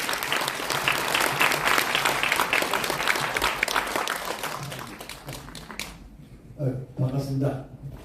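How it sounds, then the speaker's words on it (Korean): An audience at an indoor political gathering breaks into sustained loud applause to welcome a speaker, a dense wash of clapping that stops abruptly near the end, followed by a brief spoken phrase. "큰 박수로 맞아주시기 바랍니다."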